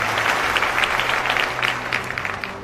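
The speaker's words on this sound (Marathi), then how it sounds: "ते टाळ्या झाल्या पाहिजे." Audience applause at a Marathi motivational talk, a short burst of many hands clapping with slight flutter, steady and moderately loud, fading a little toward the end.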